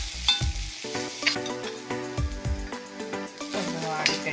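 Ground coconut paste hits hot oil with mustard seeds in a pan for lotus stem thoran, a close sizzle and sputter with stirring clatter and thuds throughout.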